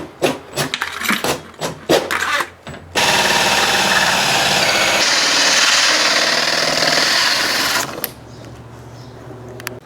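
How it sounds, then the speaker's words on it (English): A 2 3/4 inch hole saw drilling through a wall for a Haier ductless mini-split install: loud, steady grinding whine for about five seconds, preceded and followed by clunks and handling knocks. "then we're going to use a 2 3/4 hole saw to drill a hole here."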